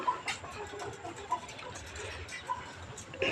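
Farm chickens in a cage giving scattered clucks and short calls, several birds at moderate distance over a busy rustling background with some faint voices.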